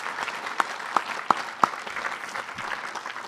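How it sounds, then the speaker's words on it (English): Applause at a school commencement ceremony for a graduating class: sustained clapping from the audience with a few sharp louder claps standing out, filling the whole moment. "give a round of applause"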